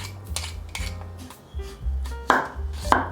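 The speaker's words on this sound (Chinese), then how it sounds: "把红萝卜切片。" Sharp knife strikes slicing peeled carrot on a cutting board, a handful of crisp chops spaced unevenly, close and fairly loud with a faint background hum.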